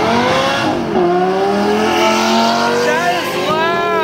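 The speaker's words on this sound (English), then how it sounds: "That is loud! Look at this racer." Loud race car at a car show, its engine roaring and rising in pitch as it accelerates up close, with a harsh, continuous exhaust note and people talking faintly underneath.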